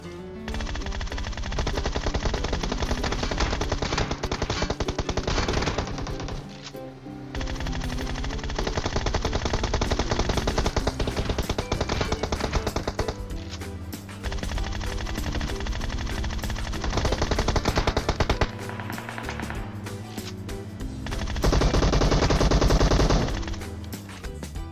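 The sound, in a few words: machine gun gunfire in video game PUBG Mobile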